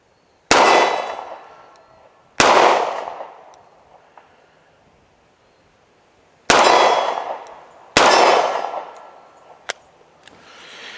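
A Charter Arms Undercover .38 Special revolver fires double action at steel targets from 15 yards, four loud sharp shots spaced a few seconds apart outdoors, each with a ringing decay, plus a faint small tick.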